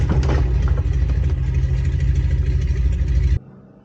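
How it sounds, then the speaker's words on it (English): A Warbird aircraft's propeller engine idles close by, a steady low-pitched droning rumble with dense broadband clatter that runs unchanged before cutting off abruptly near the end, leaving only faint background. "Even at idle, that prop from the Warbird pushes out quite a bit of air"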